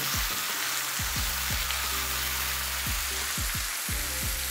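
Celery, carrot, leek, onion and meat fry together for bolognese, a dense loud sizzle beneath a low repeating mechanical tone with sweeping pitch drops.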